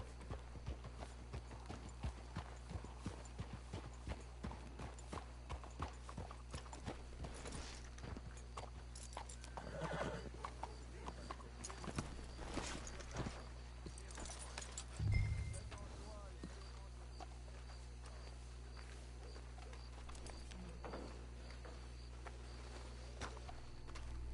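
Hooves clip-clop at a steady walking pace in the video game Red Dead Redemption 2, under continuous low background rumble, with a brief louder thump midway.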